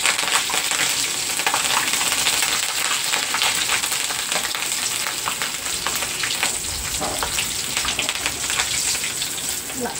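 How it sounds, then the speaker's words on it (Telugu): Slit green chillies deep frying in hot oil, a loud, steady crackling sizzle that runs unbroken throughout with no talk. "పచ్చిమిరకాయలు చీలికలు అయితే వేసేసి ఇది కూడా కొంచెం డీప్ ఫ్రై చేసుకుందాం"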